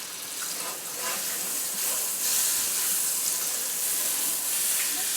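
Butter sizzles on a warmed griddle, a steady close hiss with soft crackles running evenly throughout and no voices.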